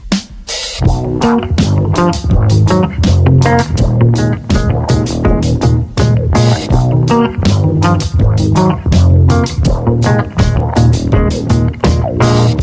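Low, thick chords strummed on a bass guitar in a steady rhythm, loud and close, with a busy plucked groove filling the whole stretch.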